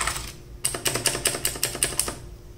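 Typing on an HP GK320 mechanical keyboard with blue switches: after a brief pause, a quick run of about nine sharp, clicky keystrokes in an even rhythm, close and fairly loud.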